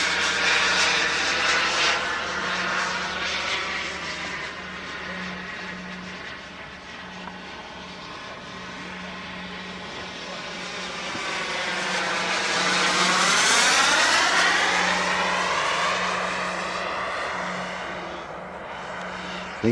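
A Boomerang Nano RC jet powered by a Kingtech K60G turbine flies past outdoors, its high turbine whine swelling and sweeping in pitch as it draws nearer and then fading, with no talk.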